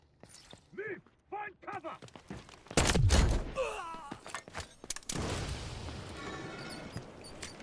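Heavy machine-gun bursts from a machine gunner in the Delta Force video game crack sharply at close range in a dense cluster, mixed with explosive impacts, mechanical clatter and chirpy effects, while voices speak briefly before it.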